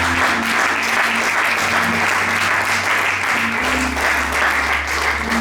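A church congregation claps together in acclaim of the Lord, steady sustained applause over a low held musical tone.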